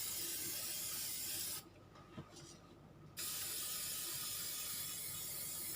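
Aerosol sealant hisses steadily across a book page, two sustained close bursts of spraying split by a short pause of near silence.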